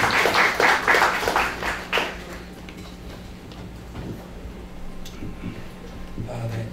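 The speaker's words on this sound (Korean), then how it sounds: "박수로 맞이해 주시면 감사하겠습니다" A tech conference audience welcomes a speaker with a short burst of clapping that lasts about two seconds, then dies away into a quiet hall with a few stray taps and shuffles.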